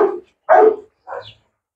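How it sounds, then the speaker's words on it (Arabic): A dog gives three sharp, close barks, loud and spaced roughly half a second apart, with silence between them and no talk. "افتح بقى الكلب، كلب ريكس ده"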